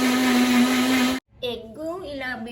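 Eggs for a cake being beaten with an electric blender, a loud steady whine that cuts off abruptly, then restarts with shifting pitch.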